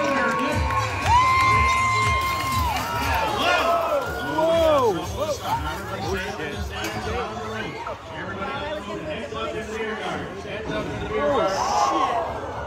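A rodeo grandstand crowd at the Northwest Roundup cheers and shouts loudly, with an announcer talking over the swelling and fading roar.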